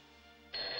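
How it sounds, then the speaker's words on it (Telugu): A telephone rings in an office as a manager waits on the line; a steady electronic ring starts abruptly about halfway through, close and fairly loud, after a quiet background. "5 మినిట్స్ నుంచి ఫోన్ రింగ్ అవుతుంది"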